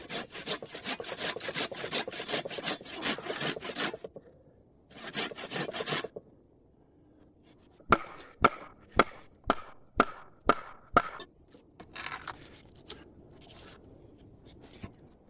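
Wood being sawn by hand in rapid back-and-forth strokes to cut notches at a dilapidated bush shed, with a pause, then a series of sharp evenly spaced chopping knocks, heard close and alone.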